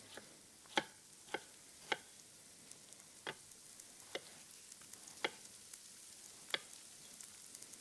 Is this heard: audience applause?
no